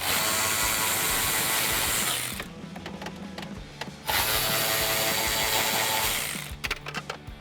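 A ratchet wrench backs out bolts from the sync module box in a 2015-2020 Ford F150 dash, loud rapid clicking in long continuous runs, broken by a brief pause and short final bursts.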